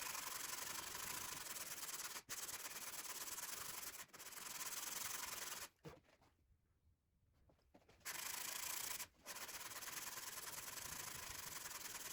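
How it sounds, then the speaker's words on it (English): Close, steady rasping of sandpaper smoothing a wooden guitar headstock scarf joint, broken by short pauses and one longer break before the rubbing resumes. "So I've got this all sanded smooth now and it's got a gluable surface"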